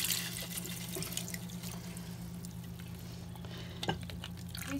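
Cold tap water runs steadily into a sink while food for steak and Russian rice is rinsed, a continuous hiss with a few small splashes and clinks; no voices.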